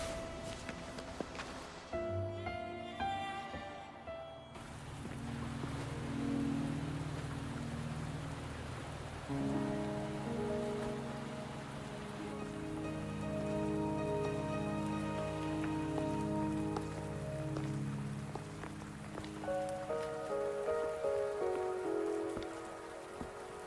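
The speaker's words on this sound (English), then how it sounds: "Are you trapped here by the rain?" Steady rain pattering on a surface throughout, with melodic game music playing over it, in the video game Wuthering Waves.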